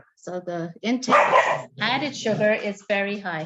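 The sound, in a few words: dog barking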